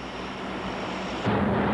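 Lockheed C-130 Hercules turboprop transport: a steady engine drone with a constant humming tone, and the roar swells slightly louder near the end, with no speech.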